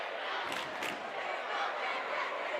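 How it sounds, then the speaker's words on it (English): Crowd noise from a high school basketball game between York High and Central York, with the student section cheering in a loud, steady roar that rises in a couple of brief bursts. "as you can hear, the cheerleaders just getting the crowd hype"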